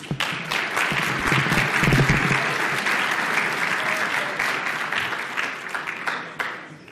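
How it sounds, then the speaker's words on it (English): Audience at a conference applauding to welcome a speaker, a dense burst of clapping that swells quickly and then fades out over several seconds, fairly close and without speech. "please give a warm schmookum welcome to Tim, who will be talking about, or excuse me, Ian, who will be talking about certificate transparency"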